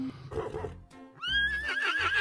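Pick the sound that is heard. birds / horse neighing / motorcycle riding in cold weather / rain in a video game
horse neighing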